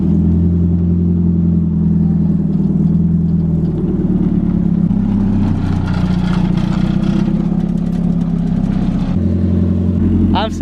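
A beams-swapped, N2-kitted Toyota AE86 on a street drive, its engine droning loud and steady from inside the car, rising and falling with throttle, with a brief voice near the end.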